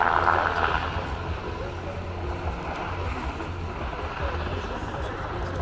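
Sikorsky UH-60M Black Hawk helicopter of the Slovak Air Force maneuvering at an air show, a steady low rotor thrum and engine drone heard from a distance beneath crowd and wind noise.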